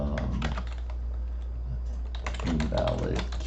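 Rapid bursts of keystrokes on a computer keyboard while writing code for a switch statement, clattering close and steady under a faint voice at the start and end.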